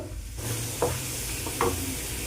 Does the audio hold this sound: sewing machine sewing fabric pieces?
no